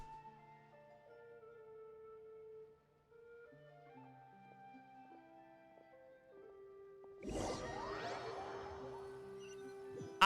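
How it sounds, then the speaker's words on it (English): Fireworks in Genshin Impact game, a soft music-box style melody followed by a sudden whooshing burst with a bright crackling shimmer that lingers under the tune, fairly quiet overall. "Oh, fireworks."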